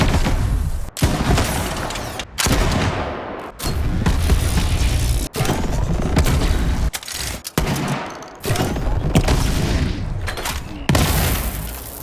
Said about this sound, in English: the sheer enjoyment of firing these guns